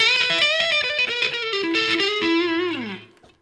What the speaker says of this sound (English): That's kind of like a fat single coil Strat sound in the neck.